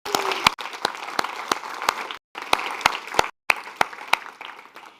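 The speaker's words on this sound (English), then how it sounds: "A big applause to all of you." Audience at a hybrid youth climate adaptation event in Rotterdam clapping, a brisk, fairly close round of applause with sharp individual claps, interrupted by brief cuts.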